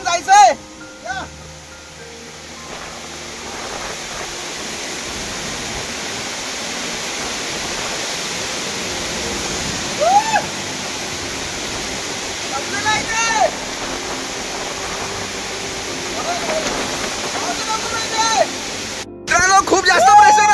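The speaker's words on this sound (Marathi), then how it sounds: "प्रेशर पूर्ण वॉटरफॉलचा पाऊस येतोय इथे" Nanemachi waterfall in Raigad roars with high-pressure falling water, a loud continuous close rush that fills the whole span while people talk and call out over it.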